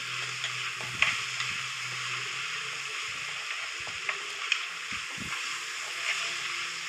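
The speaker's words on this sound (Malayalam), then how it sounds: "വീണ്ടും നന്നായിട്ട് ഇളക്കി കൊടുക്കാം" Chopped onions and tomatoes fry in a pan with a steady sizzle while a utensil stirs them, scraping now and then with a few soft clinks.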